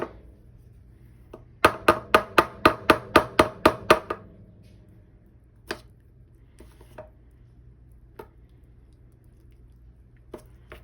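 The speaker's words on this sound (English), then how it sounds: "And now I'm mixing the plaster of Paris." Plaster of Paris being mixed in a bowl gives a quick run of about ten evenly spaced, sharp taps and knocks. A few scattered, softer clicks follow in an otherwise quiet room.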